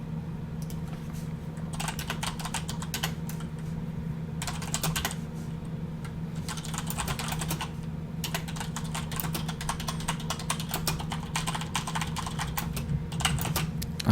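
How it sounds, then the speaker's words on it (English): Bursts of rapid typing on a computer keyboard, picked up by a nearby microphone over a steady low hum, come in several clusters of quick key clicks with short pauses between them. No one speaks. "I can hear that typing going through pretty loud."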